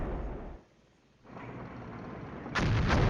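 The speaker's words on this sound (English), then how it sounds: "That's why the artillery's just dropping like that." Artillery fire rumbles in the Cold War strategy video game Flashpoint Campaigns, heavy low booming blasts with a brief lull, then a louder, sharper impact near the end, with no talk.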